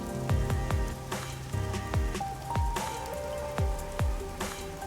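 Rain falls in the neon-lit Kamasaki District of a video game, a steady patter with sharp droplet splats and faint tonal ambience behind it.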